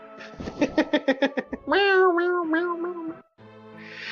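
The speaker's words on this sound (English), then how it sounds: "I like that cat response. Like that is such a pissed off cat." An angry cat in the video game Breath of Fire lets out a quick string of short, harsh meows and then a long drawn-out yowl, loud and close, with no talk over it.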